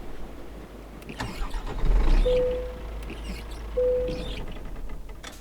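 Two short squeaky swipes of truck windshield wipers in Euro Truck Simulator 2, a couple of seconds apart, over a steady low engine rumble.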